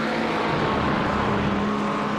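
Race car engines roar steadily from a BMW and a McLaren in multiclass racing at Road Atlanta in iRacing, a loud continuous drone with no voices over it.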